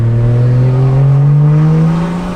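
BMW N54 engine with a Doc Race DR700 single turbo kit in a 335i/135i revving up loud and close, a rising smooth droning pitch that peaks and eases off.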